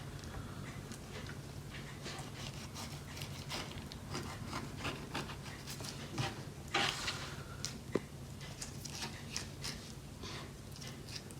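A knife scores along the belly of a fish during filleting, giving a steady soft rasping scrape for several seconds, close and fairly quiet, with a couple of sharper scratches near the end.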